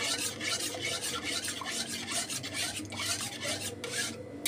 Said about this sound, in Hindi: इसको हमने चलाते ही रहना है, अगर हम इसमें करछी नहीं चलाएंगे तो इसमें गुठलियाँ बन जाएंगी।